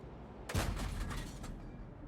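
A single loud tank cannon blast from World of Tanks bursts in suddenly, followed by a rumbling, crackling tail that slowly fades, with a couple of fainter echoing booms.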